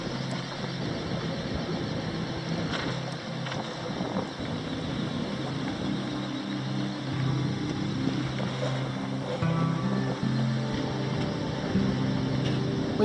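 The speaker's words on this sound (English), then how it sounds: "We motor sailed into darkness off the South Carolina coast" A sailboat motor-sails off the South Carolina coast at dusk, with a steady low engine drone, wind buffeting the microphone and water rushing along the hull throughout, without talk.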